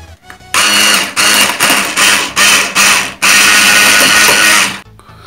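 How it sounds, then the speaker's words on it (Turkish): Electric hand mixer whipping a tea glass of milk into cream for a milk burger: loud, dense motor whirring in several short bursts with brief pauses, then one longer sustained run before it cuts off. "mikserimizle bismillah deyip çırpalım."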